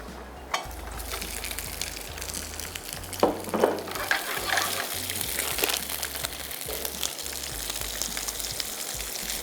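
Vegetables tossed into a hot pan for an Arabic madfoon chicken and rice dish, with a steady loud sizzle, scraping stirs and clatter throughout and no talking.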